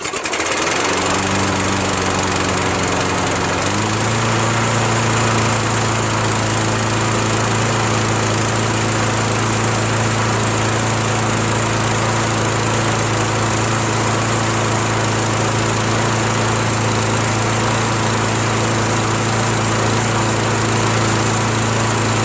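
A Briggs & Stratton Edge petrol engine swapped onto a John Deere JS63 self-propelled push mower idles steadily with a buzzing drone, starting up and then holding an even, continuous pitch throughout.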